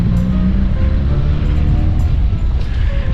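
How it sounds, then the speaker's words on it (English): Atlantic Ocean surf on the coast at Montevideo, Uruguay, near a breakwater and lighthouse, sounds as a loud, continuous, rumbling wash of waves mixed with heavy wind buffeting, with no voices. "So now we're out to the coast, and this would be the Atlantic Ocean"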